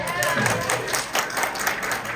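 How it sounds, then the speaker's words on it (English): Audience applause at a talk, a dense wash of many hands clapping steadily and fairly loudly throughout, with crowd noise mixed in. "Can we give EmGuarde a big round of applause?"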